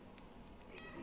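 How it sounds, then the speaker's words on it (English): A cat's meow in the video game Stray, two short bright calls over a steady low backdrop of game ambience, the second louder and longer than the first. "Like you push the button to meow."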